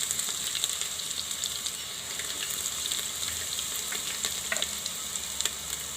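Garlic and ginger sizzling in hot oil with cumin for kang millet khichdi, a dense continuous crackle with a few sharper pops and faint stirring scrapes near the end, no voices.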